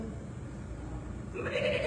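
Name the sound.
person imitating a goat bleat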